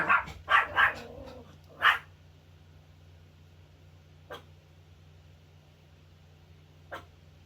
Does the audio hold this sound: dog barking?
yes